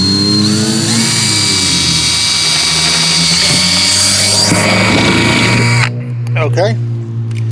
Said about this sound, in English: then you're just going to drill a hole in the top of your bucket